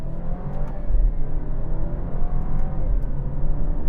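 A 2025 Alfa Romeo Giulia engine hums and rumbles close by from inside the cabin after a paddle-shift downshift, with a low, steady drone rising slightly as it revs.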